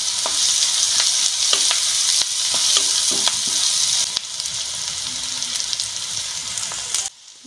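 Chopped onion and green chili frying in a little oil in a pan, a loud steady hiss and sizzle with occasional stirring scrapes and clicks, then the sizzle cuts out at the end.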